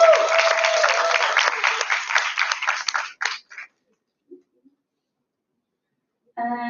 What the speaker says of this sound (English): So if you can give them a lot of applause,